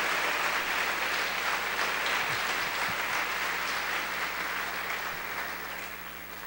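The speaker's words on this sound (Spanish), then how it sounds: "Da un aplauso al rey, vamos." Applause from a church congregation at a sermon, a steady dense wash of clapping that fills the space evenly and slowly fades toward the end, with no voices over it.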